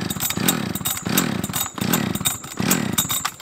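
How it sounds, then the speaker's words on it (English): A Husqvarna 572 gas chainsaw is pulled over and over but refuses to start, giving loud, close, rhythmic bursts of cranking roughly every half second with no steady engine run. "She won't fire up, boys. The Husky won't fire up."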